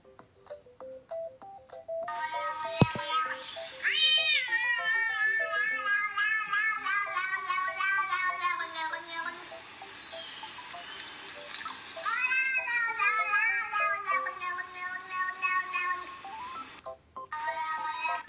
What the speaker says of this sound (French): j'ai tellement envie de mettre une musique de chat